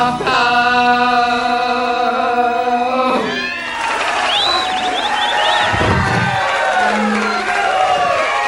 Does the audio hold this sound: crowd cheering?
yes